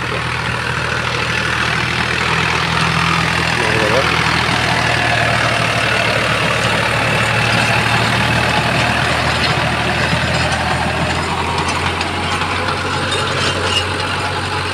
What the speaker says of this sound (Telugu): బండి అయితే సోనాలిక ట్రాక్టర్ అయితే మనకి రోటావేటర్ వేస్తుంది